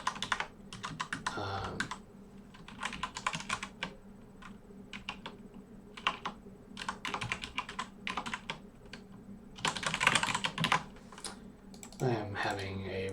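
Fingers type on a computer keyboard while someone codes text rendering for a game engine, a busy run of close key clicks in bursts with brief pauses, ending in a flurry of rapid keystrokes.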